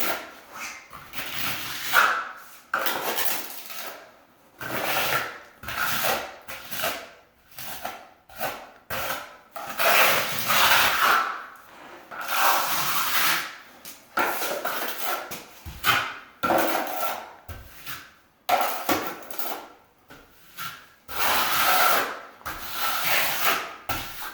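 A notch trowel scrapes and rubs across wet vertical concrete being stamped and carved, in a series of repeated gritty strokes of varying length with brief pauses, close and moderately loud, and no talking.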